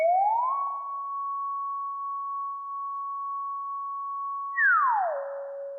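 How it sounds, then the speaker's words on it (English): A vintage Casio CZ-5000 synthesizer in mono mode with glide plays a pure, steady tone that slides up into a long held note, then swoops down to a lower pitch, clean and alone. "I have this vintage synth. It's called the Casio CZ 5000."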